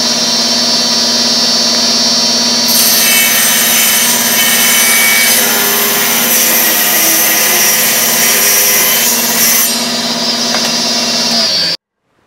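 A power saw cuts wood for a Scrabble tile rack, its motor humming steadily before the blade bites in for a loud, continuous cutting whine, then stops abruptly, with no talking.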